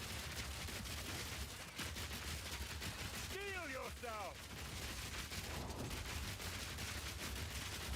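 Gatling crossbow fire in Path of Exile 2, a dense, continuous barrage of rapid shots layered with game effects and a few swooping tonal chirps midway.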